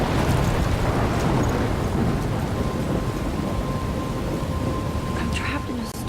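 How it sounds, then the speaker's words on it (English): Steady heavy rain pours in a thunderstorm in the video game Life is Strange, with continuous rumbling thunder filling the whole stretch at a loud, even level. "I'm trapped in a storm?"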